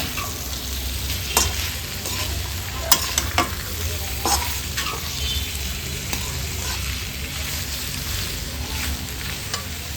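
Pork for Coorg-style chilli pork fries over a low flame, a dense, even sizzle close by, punctuated by a few spoon scrapes and taps as it is stirred.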